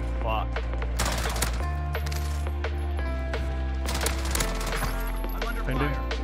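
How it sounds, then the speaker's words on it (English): Dense automatic gunfire from Warzone Rebirth rattles in sustained bursts with metallic clinks, loud and continuous, with a voice talking briefly over it. "I'm under fire."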